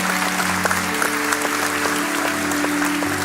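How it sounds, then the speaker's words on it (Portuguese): Continuous applause from a church congregation during an evening Portuguese-language worship service, a dense wash of clapping over sustained music tones, fairly loud and steady throughout. "Dê o melhor aplauso que você pode dar ao Senhor."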